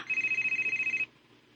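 A telephone rings in a radio drama sound effect, a rapid electronic trill lasting about a second, clear and alone over faint background.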